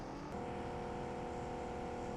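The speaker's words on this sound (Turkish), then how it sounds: "Aa araba geliyor." A car in PUBG Mobile drones steadily with a sustained engine hum and whir, growing slightly after a brief shift, with no talk over it.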